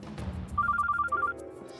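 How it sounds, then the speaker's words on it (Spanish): A telephone bell rings in a short burst of rapid repeated trills over a low background hum, with no talk. "Beatriz, es mejor que apagues el teléfono."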